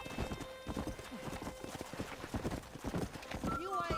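Horses in a corral from the video game Red Dead Redemption trot with quick, steady clip-clop hoofbeats nearby, ending in a clear rising whinny, while someone speaks over the hooves.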